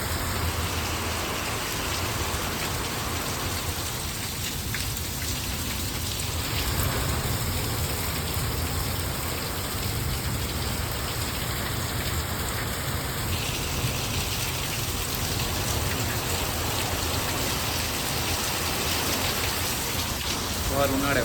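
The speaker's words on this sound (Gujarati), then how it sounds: "એકદમ ધોધમાર વરસાદ ચાલુ થઈ ગયો" Heavy summer downpour pouring steadily in windy weather, a dense, continuous roar of rain hitting surfaces that stays loud and even throughout.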